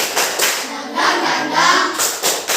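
A standing group at an academic coaching session does a rhythmic spirit clap, steady loud claps in time, alone without speech.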